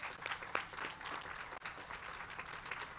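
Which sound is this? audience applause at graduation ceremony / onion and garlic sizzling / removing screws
audience applause at graduation ceremony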